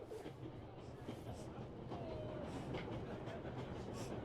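Train in 11-11 Memories Retold, a steady rumbling roll of wagons on the rails with faint rhythmic clatter, continuous and fairly quiet, with voices murmuring over it.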